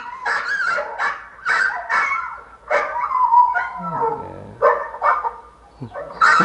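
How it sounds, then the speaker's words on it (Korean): A dog barks and yips in loud, repeated bursts close by, while a chick peeps briefly between the barks. "야, 개가 나타났어."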